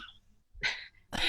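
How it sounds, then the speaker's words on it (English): A person sneezes during a spoken Q&A: two quick sharp bursts of breath and noise, close and moderately loud, separated by a brief pause. "sorry, sneezing."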